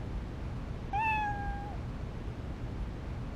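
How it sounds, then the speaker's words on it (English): A single clear cat meow in the video game Trauma Team, rising then holding steady for under a second over a low background hum. "This cat is a real handful."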